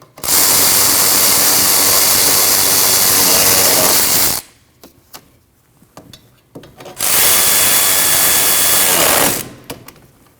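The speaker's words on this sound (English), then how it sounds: "Now you can tighten those 2 bolts." Power tool tightening two bolts on a 2003-2008 Subaru Forester rear brake assembly: two loud, steady whirring bursts of about four and two and a half seconds, separated by quieter clicks and rattles of handling.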